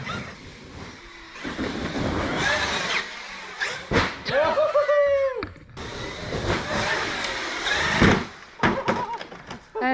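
A toy remote-control car in a toy shop speeds up with a rising, whining electric motor, loud and close, in a few short bursts alongside knocks and shuffling noise.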